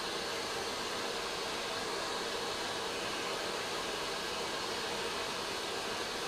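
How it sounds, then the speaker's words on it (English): A vacuum cleaner runs throughout fender repair work, giving a steady, loud broadband roar with no breaks and no speech over it. "Turn the vacuum off."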